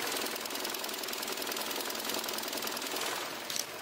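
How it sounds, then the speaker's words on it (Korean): A Hyundai YF Sonata 2.0 gasoline DOHC engine with a rebored block idles steadily up close, a continuous mechanical whir with fine rapid ticking, even in level throughout and without any talking. "엔진 소음 먼저 들려드리면은"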